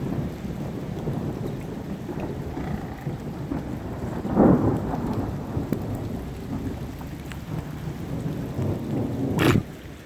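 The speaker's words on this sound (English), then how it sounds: "Some lightning strikes around here." A thunderstorm with heavy rain pours steadily over an outdoor pool area, with a deep rolling thunder swell mid-way and a sharp crack of a nearby strike near the end.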